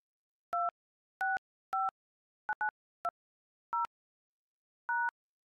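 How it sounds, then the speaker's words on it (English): A sequence of eight telephone keypad DTMF tones entering a phone number into an automated phone menu, short clean beeps spaced unevenly with one quick double press in the middle, loud and alone. "Please enter your phone number, including area code, then hit pound."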